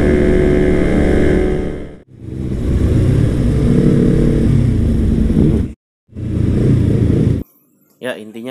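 An underbone motorcycle roars past close behind in a traffic setting, loud engine drone cutting out abruptly twice, with a voice talking briefly near the end.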